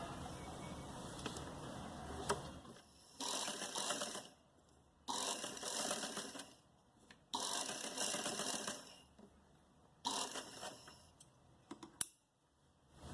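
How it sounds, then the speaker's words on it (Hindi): A sewing machine stitches fabric for a neck design in several loud, close bursts of rapid mechanical whirring, each a second or two long, separated by short quiet pauses and small clicks. "अब हम यहाँ से सिलाई लगा के इसको शेप देंगे।"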